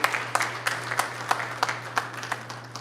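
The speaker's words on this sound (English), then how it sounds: "Give everybody a big round of applause." A small parent forum audience gives applause, with sparse, distinct claps spaced out over a few seconds above a steady electrical hum, sounding like a modest room of people clapping.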